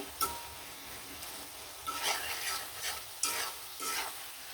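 Tomatoes and eggplant sautéing in a pan for a hilsa fish curry, with a steady sizzle and several bursts of stirring scrape, close and fairly quiet, no talking.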